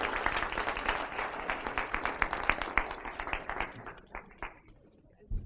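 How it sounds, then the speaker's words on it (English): A modest audience at a political forum claps for several seconds, distinct hand claps fairly close and thinning out toward the end. "A round of applause, please."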